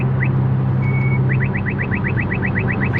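A car horn or alarm beeps in a fast, steady series of short chirps over a constant low vehicle rumble, loud and close, with no talking.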